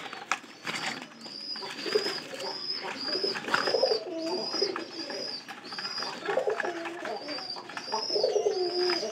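Pigeons, newly acquired birds kept at a loft, coo in repeated soft, throaty phrases, several calls overlapping close by at a moderate, continuous level without talk.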